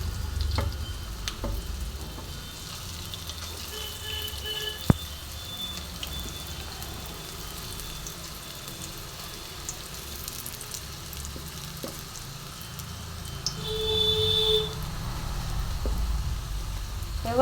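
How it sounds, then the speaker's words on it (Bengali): Pumpkin and coconut chops fry slowly in oil over a medium flame, a soft, steady sizzle with occasional light clicks and taps, growing slightly louder toward the end. "এবার মাঝারি ফ্লেমে আস্তে আস্তে ভাজা হবে"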